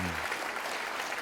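Audience applause breaks out at a college move-in welcome speech, a steady wash of clapping from a crowd that follows the end of a spoken line, with the voice cutting off at the start.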